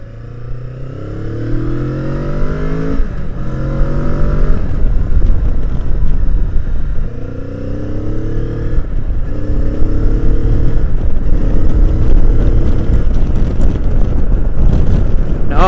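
A 2015 Kawasaki Vulcan S motorcycle cruises on the freeway, its engine droning loud and steady with rising and falling tones as it shifts through gears, mixed with heavy wind rush and no speech.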